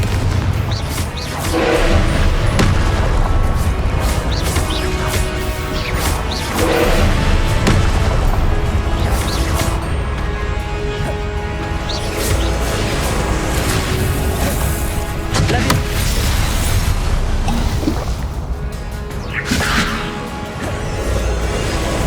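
Confringo spell blasts in Hogwarts Legacy, repeated booming explosions and crashes with whooshes over a dense game soundscape, loud and close, coming in bursts every few seconds across the whole stretch.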